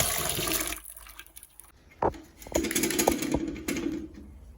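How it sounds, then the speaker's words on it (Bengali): Water draining off boiled taro in a home kitchen, an uneven run of splashing and trickling with a few louder gushes and clatters, fairly soft overall. "এবার কচুটার জল ছেঁকে নেব"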